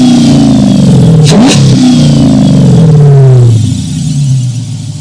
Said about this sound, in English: That belt squeal, we're gonna have to ignore that right now